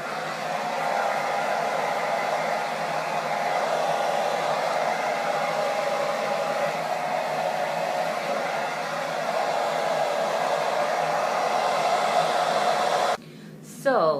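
Blow dryer with a diffuser attachment on a low cool setting, drying natural hair after a temporary colour mousse, giving a steady close whooshing hum that runs unbroken before cutting off near the end.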